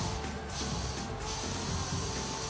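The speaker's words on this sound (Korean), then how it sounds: "이제 스프레이를 뿌리고" Hair spray hisses from an aerosol can onto a styled wolf shadow-perm wig in two short close bursts, over a steady background hum.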